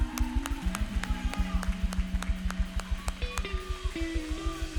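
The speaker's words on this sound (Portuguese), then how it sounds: "Uma salva de palmas para Jesus." A church congregation claps in a steady, quick rhythm along with sustained music, the sharp claps coming evenly throughout.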